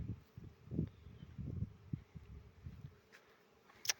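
Honey bees crawling and buzzing on a hive frame during a colony inspection at an apiary, a soft close low hum with small scrabbling bursts and one faint sharp tick near the end.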